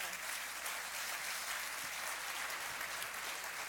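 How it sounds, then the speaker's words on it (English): Full audience applause at a global summit evening event, a dense, even wash of many hands clapping with a steady loudness throughout the short stretch. "Give yourselves a round of applause, and I hope you all have a great night."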